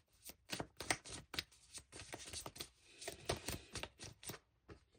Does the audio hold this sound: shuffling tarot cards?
yes